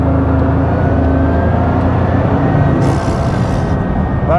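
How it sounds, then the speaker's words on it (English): Bugatti Chiron Pur Sport, a 2021 car with a 1500hp engine, accelerating in 6th gear on part throttle: a loud, steady, deep engine roar with whirring induction, continuous and close throughout. "That's 6th gear on a part throttle, and it rockets forward."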